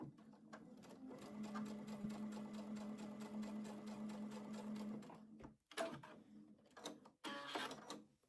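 Sewing machine piecing a seam to join two small quilt blocks, a rapid rhythmic needle chatter running close for about five seconds, then stopping, followed by a few short clicks and handling noises.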